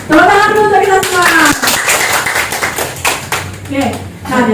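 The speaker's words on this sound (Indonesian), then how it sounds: "tepuk tangan dulu untuk kita semua" A group of teachers clap together at a school sharing session in Gianyar, Bali, loud, close, brisk clapping with voices speaking and cheering over it throughout.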